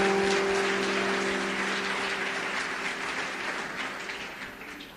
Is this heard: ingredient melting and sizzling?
no